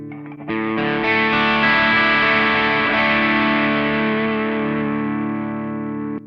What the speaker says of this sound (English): Let's check out the Wampler hot wired overdrive.